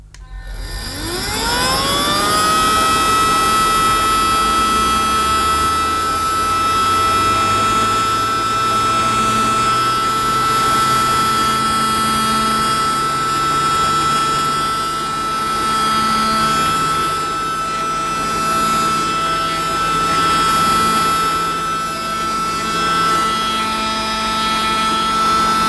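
A Rowenta toy cordless vacuum cleaner by Smoby, picking up a mess, spins up quickly into a loud, steady, high-pitched motor whine that holds almost unchanged throughout.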